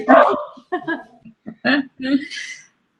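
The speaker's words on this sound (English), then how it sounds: "I heard a dog for a moment" A dog barks and yips in short, sharp bursts at moderate distance, scattered over a few seconds with gaps between them, mixed in with talk.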